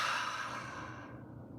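A person breathing out slowly during a yoga stretch, one long soft airy exhale close to the microphone that fades away.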